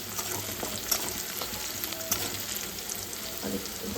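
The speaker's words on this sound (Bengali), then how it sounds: "ওই যে আলু ভাজা বসিয়েছি, রান্না করে নি।" Potatoes frying in a pan at home, heard as a soft, steady sizzle with a few light crackles and pops, fairly quiet and without any talking.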